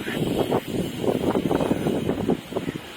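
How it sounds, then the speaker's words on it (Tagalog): Steady gusting wind buffets the microphone, a continuous rough rumble with uneven surges and no voices. "mahangin"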